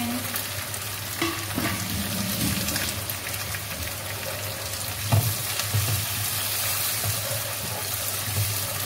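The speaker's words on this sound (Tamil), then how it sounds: "தக்காளி இதில் கொஞ்சம் நல்லா வதங்கிட்டோம்" Chopped tomatoes frying in a pan for fish curry with pak choy, a steady close sizzle with a low hum and occasional stirring scrapes, no talk.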